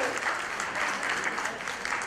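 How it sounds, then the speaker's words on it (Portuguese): Brief burst of audience applause at a live comedy-style show, steady and moderately loud throughout with faint voices mixed in. "Uma salva de palmas muito à Marlene, não?"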